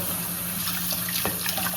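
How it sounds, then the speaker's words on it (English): Hot tap water runs steadily from a faucet while a comb is washed with soap to sanitize it, a close, continuous gushing stream with a slight splash partway through. "I sanitize it first with hot water and soap."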